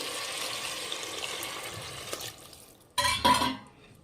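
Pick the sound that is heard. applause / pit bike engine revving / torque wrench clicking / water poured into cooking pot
water poured into cooking pot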